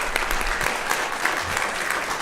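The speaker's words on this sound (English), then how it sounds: "Everyone give them a round of applause." Audience applause for student finalists at a school district quiz championship, a dense, steady wash of clapping from a large crowd filling the whole stretch without a break.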